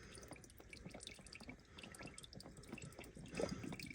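Engine oil drips and trickles from a car's drain hole into a catch pan during an oil change, a faint, irregular patter of drops and small splashes close by.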